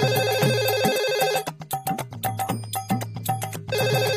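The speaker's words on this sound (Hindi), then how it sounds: "सच्चो फोन बजदा है" A mobile phone rings loudly nearby, its electronic ringtone melody repeating in quick, rhythmic bursts.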